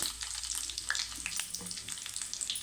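Mustard seeds, chana dal, urad dal, cumin and a cut dried red chilli sizzle and crackle in hot oil for a tempering, with bright, fast popping spatter throughout.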